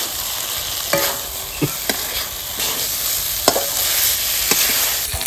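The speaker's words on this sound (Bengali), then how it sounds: "এখন আমি ফুলকপিটা দিয়ে দিচ্ছি এবার ফুলকপিটা একটু কষিয়ে নেব" Cauliflower being stir-fried with yogurt in oil in a pan for Bengali doi phulkopi makes a steady, close hiss, broken by several sharp scrapes and knocks of a spatula against the pan.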